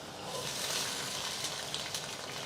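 Green chillies, mustard seeds and cumin sizzle steadily in hot oil, a continuous close frying hiss with small crackles and no talk.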